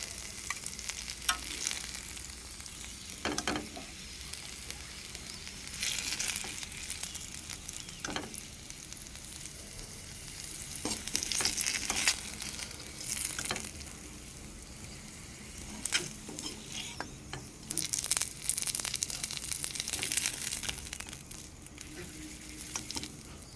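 Sajna (drumstick) pieces sizzle as they fry in a pan, a continuous crackling hiss broken by periodic louder scrapes and stirs of a spatula, with no talking.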